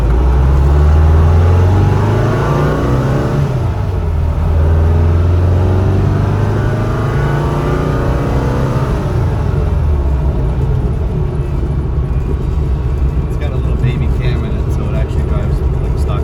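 A 1967 Volkswagen Beetle in California-look trim, fitted with a 3/4 race 110 cam, idles and revs up through its air-cooled engine, rising and falling in pitch up close, while people talk over it.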